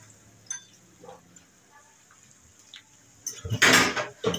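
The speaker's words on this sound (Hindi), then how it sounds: "अब मैं डालूंगी ये मसाला जो है, ये सारा मैं इसमें ऐड कर दूंगी" Spice mix (masala) being added into a cooking pot in a home kitchen, heard as scattered light clinks and then a louder burst of metal scraping and rattling near the end, close up, with no talking.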